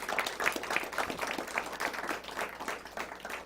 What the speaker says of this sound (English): Our judges, give them one more big round of applause.